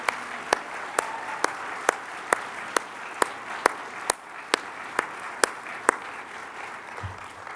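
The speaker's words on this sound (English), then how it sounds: "please join me in a round of applause to recognize them." At a psychiatric association convocation, the audience applauds to honor new Life and Retired Fellows. Soft, steady crowd clapping runs throughout, with one nearby person's sharp claps punching through at an even, regular pace.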